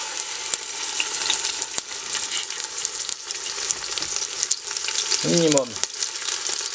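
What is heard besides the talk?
beef shank searing in a pan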